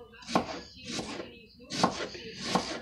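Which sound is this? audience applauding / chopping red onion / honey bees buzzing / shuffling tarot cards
chopping red onion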